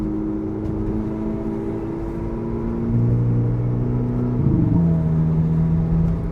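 Volkswagen Polo GTI engine heard from inside the car, a loud steady drone with a rise in revs and a sudden pitch shift as the gear changes.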